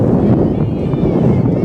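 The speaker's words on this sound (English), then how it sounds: "It's windy." Gusting wind buffets the microphone at an outdoor softball game between Fredericksburg and College Station, a constant low rumbling roar that swells and eases slightly throughout.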